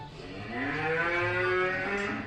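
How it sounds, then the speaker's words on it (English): A single long, loud cow moo played back as a recording in a guess-the-sound game, harmonic and drawn out, swelling in the middle and heard alone. "No, that's a cow."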